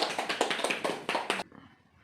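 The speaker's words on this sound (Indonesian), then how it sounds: "Tepuk tangan buat temannya." A short burst of rapid clapping from a small group stops abruptly after about a second and a half, leaving quiet room noise.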